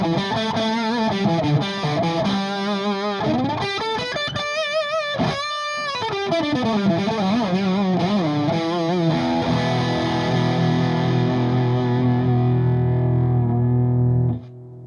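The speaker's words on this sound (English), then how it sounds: "I'll turn the distortion to 3 o'clock now and see what that sounds like." A Boss DS-1 distortion pedal with its distortion knob at three o'clock drives an electric guitar through loud, sustained, heavily clipped chords and bending lead notes, ringing out into a long held chord that cuts off abruptly near the end.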